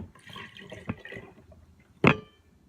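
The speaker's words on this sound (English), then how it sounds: "I'm just going to pour it all in there." A single brief splash of broth pouring into a pot near the end, after a stretch of soft background clatter and a small knock.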